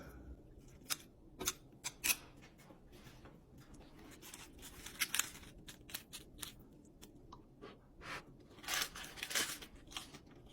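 Close, crisp crunching bites and chewing of pumpkin lasagna, irregular sharp crackles against a quiet background.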